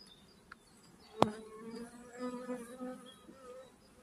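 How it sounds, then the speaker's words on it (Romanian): Old honeybees buzz close around a beekeeper at an open hive, a faint wavering drone that swells and fades over a few seconds, with a sharp click near the start. "Ați văzut că mai am niște albine bătrâne care totuși sar pe mine."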